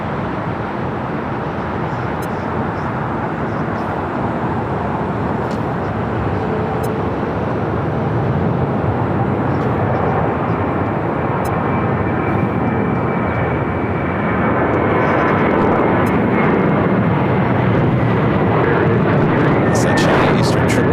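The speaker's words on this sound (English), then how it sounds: "Touching down on 24 right there on the north side" An airliner touches down on runway 24 right on the north side of LAX, a continuous loud jet rumble that swells toward the end, with a voice speaking over it.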